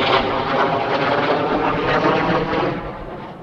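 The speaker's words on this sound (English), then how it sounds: "that plane that F-16 just banked right over the top of me" An F-16 fighter jet roars low overhead as it banks above a pond, a loud, broad, steady rush of engine noise that fades slightly at the end.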